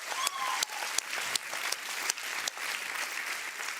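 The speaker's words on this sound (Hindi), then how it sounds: "उनके लिए जोरदार तालियां हो जाएं" Studio audience breaking into applause for a film composer on a Hindi kids' TV show, dense steady clapping with a few sharper claps standing out, moderately loud and continuous.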